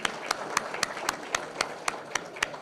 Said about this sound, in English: Let's all give a round of applause for Linda's Cakes and Catering.